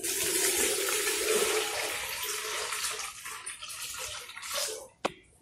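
Water is poured from a container into a pot to mix plaster for a 40 by 40 cm mold, one liter at a time: a steady, fairly loud gushing stream that tapers off near the end with a brief knock.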